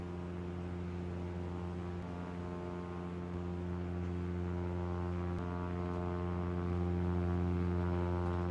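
A propeller aircraft in a flight simulator game drones along with a steady, harmonic engine hum, continuous and even, growing slightly louder toward the end.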